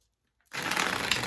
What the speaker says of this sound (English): I had to shuffle them good, you guys.